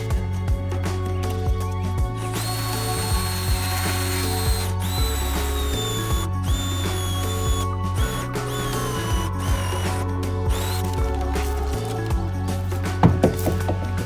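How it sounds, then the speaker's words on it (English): A Sawzall reciprocating saw cuts apart a glued bunkie wall of thin plywood and styrofoam insulation outdoors, running loud and steady with changing pitch, brief stops and restarts, and a clatter near the end. "I am going to need to use a Sawzall to get that apart."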